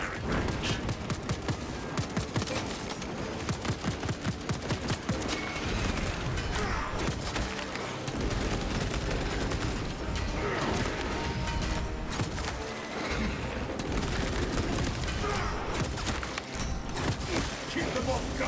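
Relentless heavy bolter fire tears through Tyranid swarms in the Space Marine video game, with loud rapid bursts and impacts running continuously under a dense soundtrack and voiced battle chatter.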